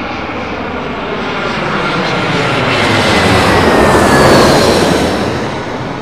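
A Malaysia Airlines Airbus A350 passes overhead on arrival at London Heathrow, its broad jet roar swelling to a loud peak and then easing slightly as it moves away.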